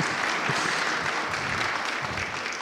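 An audience at a live panel discussion on free speech and free markets applauds in a dense, steady wash of clapping that lasts the whole moment.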